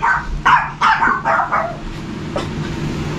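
A small chihuahua barks several times in quick succession, close and loud, then gives one last sharp yip after a short pause.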